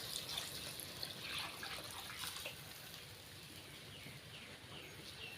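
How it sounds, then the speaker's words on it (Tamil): Water runs and splashes steadily into a pot of spicy tapioca curry, a continuous pouring wash with small liquid sputters, close by and fairly quiet. "இப்போ வந்து குழம்புக்கு தேவையான அளவு தண்ணி சேர்த்துக்கிறேன்"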